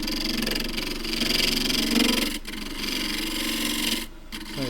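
A 3/8 deep fluted gouge cuts quilted tiger myrtle spinning on a lathe, producing a steady, close rasping hiss over the motor's hum, with two brief breaks in the cut and no talking.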